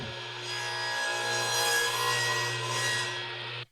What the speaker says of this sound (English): Then make a 45-degree spline cut.